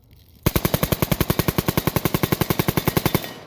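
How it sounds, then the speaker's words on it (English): Rapid gunfire through an MTC-1 muzzle brake compensator at a shooting range, a fast even burst of about thirty loud sharp reports after a short quiet lead-in, no talking. "we'll go ahead and shoot this thing down at the range"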